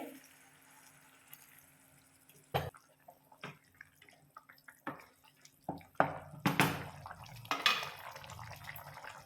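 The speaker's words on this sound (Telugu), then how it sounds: "ముందుగా కాచి పెట్టుకున్న హాట్ వాటర్ వేసుకోవాలి" Hot water is poured into a pot of half-cooked chicken for Chettinad chicken biryani, in short splashes and trickles, with clinks and clatter of the pot between pours.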